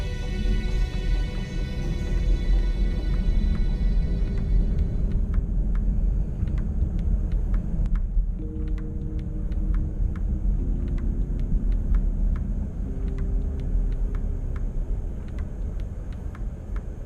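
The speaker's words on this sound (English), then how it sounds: "now driving on cruise control." A Ford Puma compact crossover cruising on cruise control at about 42 km/h: a steady, even road and engine rumble from inside the cabin, with faint tonal whines shifting slightly, no voices.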